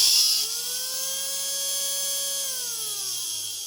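Small electric motor of a vintage 1960s Veron Caribbean Coaster model boat runs in reverse on an 11-volt battery, a steady thin whine that holds its pitch, then slows and drops as it winds down.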